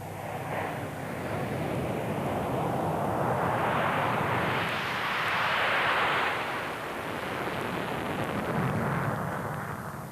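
A conventionally configured Eurofighter prototype jet fighter flies past at the 1994 International Air Tattoo, a broad, steady roaring jet noise that swells and recedes over about ten seconds.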